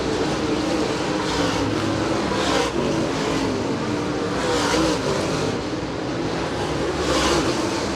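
Late model race cars at Merritt Speedway roar continuously at close range, a dense, steady engine drone swelling and easing as cars pass down the backstretch, with no pauses over the whole stretch.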